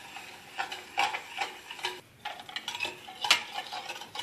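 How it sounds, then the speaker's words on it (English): A whisk beats sugar into milk in a bowl, quick rhythmic clinking and swishing strokes against the bowl's sides with a brief pause midway, close and moderately quiet. "we need to add sugar to the milk and whisk it until the sugar melts completely in the milk"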